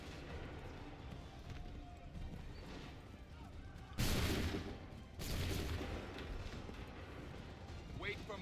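Musket volley fired on command in Assassin's Creed III: one sharp, loud crack of massed shots, then a second burst a second later, over a quieter background of footsteps and ambient game sound.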